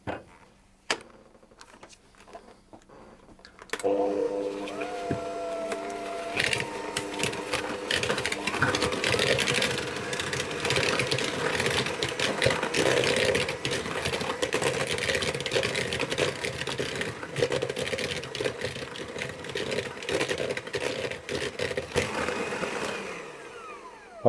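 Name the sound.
electric hand mixer creaming butter and sugar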